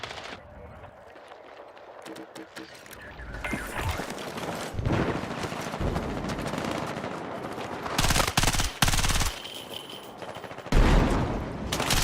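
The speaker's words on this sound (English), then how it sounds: "Feels like I'm shooting the gun in real life." Video game gun fire in rapid automatic bursts, growing louder and denser toward the end, with sharp cracks and mechanical clatter under a player's talk.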